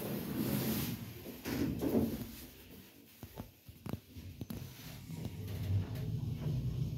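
Doors of a 2017 Kone lift sliding shut, heard as a steady mechanical rumble broken by several sharp clicks and knocks midway, with the drive hum settling again at the end.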